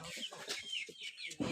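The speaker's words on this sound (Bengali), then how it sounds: "এই যে মুরগিগুলো বন্ধুরা ডিম পাড়তেছে" Laying hens cluck softly and repeatedly at close range, with rhythmic low clucks and higher squawking notes. The sound is faint, with no talk.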